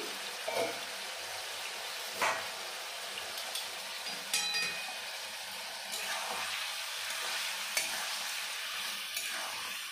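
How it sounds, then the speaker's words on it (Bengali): Bird meat cooking village-style in a pan after the lid is lifted, with a steady sizzle and several sharp scraping stirs of a spoon against the pan. No one speaks. "মাংসটা অনেকটাই কষানো হয়ে গেছে।"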